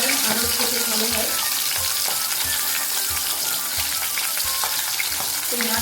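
Fish frying in oil in a pan for a village-style bitter gourd, potato and fish curry, a steady dense sizzle with occasional stirring clinks and splashes, close and continuous throughout.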